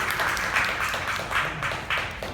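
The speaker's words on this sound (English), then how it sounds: "how about a round of applause for her?" An audience at a travel presentation gives a round of applause for a volunteer, a steady, dense wash of clapping that holds evenly for a couple of seconds without voices.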